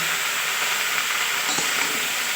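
Panch phoron spices and chopped green chillies sizzle in hot oil, the start of a fried vegetable curry with brinjal, bitter gourd, bottle gourd and potato; a steady, close, even hiss runs throughout with no talk.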